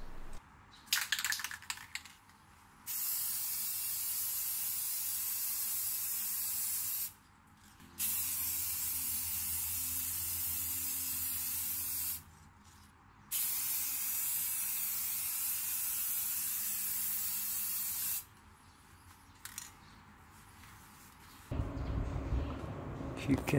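Spray can laying clear coat onto a BMW E30 brake caliper, three long steady hissing bursts of several seconds each separated by short pauses, close and even, ending with a brief different noise.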